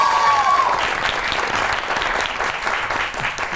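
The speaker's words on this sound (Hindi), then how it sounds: "आपकी बहुत सी तालियों में" Studio audience applause welcoming a guest on a Pakistani comedy talk show, a dense, steady wash of clapping that holds throughout and tapers slightly toward the end.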